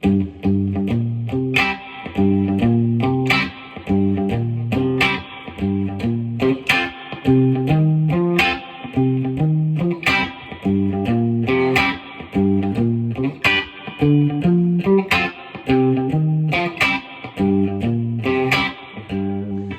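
An electric guitar plays a repeating soul riff in a Stax style, with a bouncing, steady rhythm, loud and close, colored by effects and no talking.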